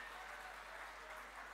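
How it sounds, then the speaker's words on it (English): Applause from the audience at a college graduation day ceremony, a soft, even patter of many hands clapping together, heard faint and from a distance for a brief moment. "He needs a thunderous applause on this occasion."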